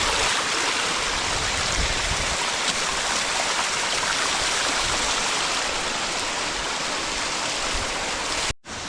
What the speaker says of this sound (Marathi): आलेलो आहोत आम्ही धबधब्यावरती.